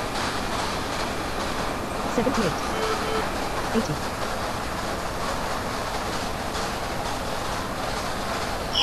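Toronto Rocket subway train in a train simulator game, a steady rumbling rail drone running throughout beneath someone speaking over it.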